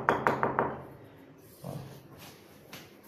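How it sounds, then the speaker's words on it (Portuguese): A hand taps a ceramic subway tile into fresh mortar, giving four quick, dull knocks up close, followed by quieter scattered handling noises. "Se precisar dar uma batidinha"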